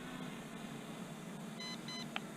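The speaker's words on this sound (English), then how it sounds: "2 beeps." Two short electronic beeps in quick succession from an MJX B4W brushless RC drone controller, followed by a brief chirp, heard faintly over a steady background hum.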